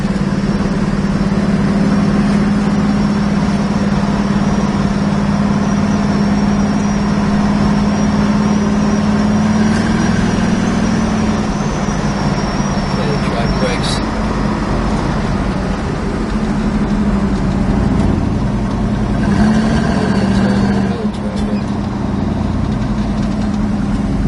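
A 1970 Plymouth Cuda AAR being driven, its engine a steady loud low drone with a constant hum and brief shifts in tone, heard from inside the car throughout.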